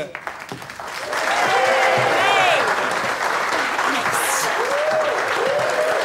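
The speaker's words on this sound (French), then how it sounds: "je vous demande d'applaudir Madame Stella Harris." An audience breaks into strong applause welcoming the actress Stella Harris, a horror film icon, with a swell of clapping that holds steady, accompanied by whoops and whistles rising above it.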